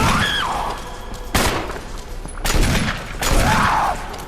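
Three heavy gunshots from a powerful weapon aimed at Lisa Trevor in Resident Evil Remaster boom out at spaced intervals, each a sharp blast with a ringing decay over a steady game ambience.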